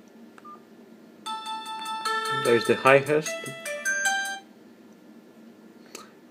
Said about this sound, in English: you can select your own song or music for the ringtone